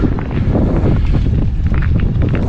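Strong wind buffets the microphone in a constant loud, low rumble with gusty fluctuations, no speech heard.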